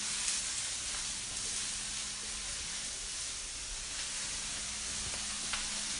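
Eggplant pieces fry and brown in a pan for caponata, giving a steady close sizzle and hiss with occasional faint pops and stirring scrapes.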